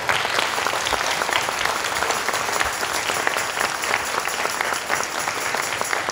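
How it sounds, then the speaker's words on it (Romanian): Audience applause at a final show, when a performer's father is introduced from the stage; sustained loud dense clapping continues without pause. "aplauze."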